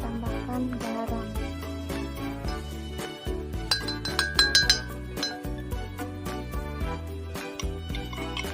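Salt spooned into a glass of water and oil during a protective-colloid experiment, heard as repeated light glassy clinks and taps against the glass, close and fairly loud, over a steady background with no speech.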